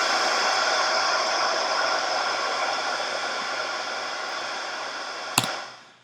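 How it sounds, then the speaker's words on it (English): A steady synthesizer hiss of white noise holds evenly, ends with a sharp click, then fades out. "Pretty standard noise, white noise sound."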